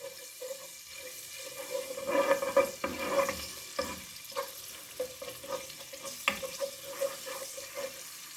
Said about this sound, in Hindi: अदरक लहसुन का पेस्ट थोड़ा सा फ्राई होगा